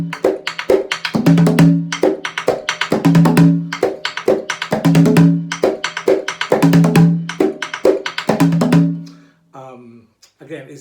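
A voice imitates the hand-played rhythm of a Tombola, a two-sided lap drum, with repeated percussive syllables in a steady pattern, close and loud, ending in a brief pause.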